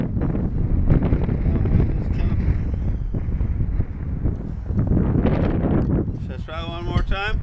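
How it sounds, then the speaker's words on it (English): Strong wind buffets the microphone in a constant low roar at a model airplane flight, with brief voices and a faint whistle near the end. "Very windy."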